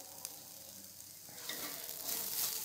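Grated coconut and khoa kheer frying in a pan while being stirred, a soft steady sizzle with faint scraping that grows slightly louder, close and quiet.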